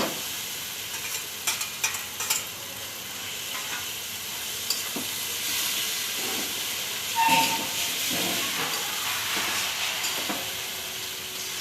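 Maggi noodles frying and being stirred in a pan, a steady close sizzle and hiss with occasional scraping and stirring clatter throughout, no voices.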